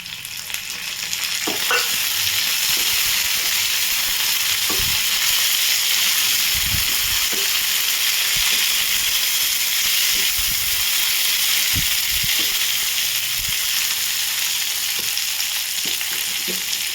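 Tomatoes frying with onion in a pan for matar paneer, a constant close hiss and sizzle broken by repeated scrapes and taps of a spoon as the mixture is stirred.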